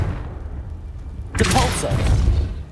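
Confringo fire spell from Hogwarts Legacy goes off in a sudden loud burst, a broad crackling blast with a deep rumbling tail after a quiet opening.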